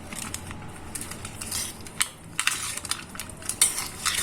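A spoon scrapes and clinks against a bowl while cheese is mixed into a bread roll filling, giving a run of close, irregular scraping and tapping sounds with no talking.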